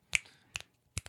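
Three sharp finger snaps offered in place of applause, spaced unevenly with the last two close together, crisp and near against a quiet background.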